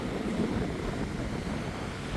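Strong winter wind roars steadily at an outdoor site where a truck hauls water, a dense low rushing buffet against the microphone with no pauses and no voices.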